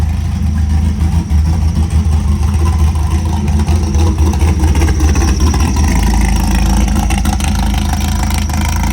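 Stroked 418 LS3 V8 in a sandrail buggy runs on a dyno, a loud, dense, continuous engine roar close up with slight rises and falls in revs, heavy low rumble throughout and no voices.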